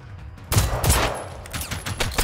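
Gunfire in the Generation Zero video game, several sharp shots and bursts in quick succession, loud and close, with no talk over them.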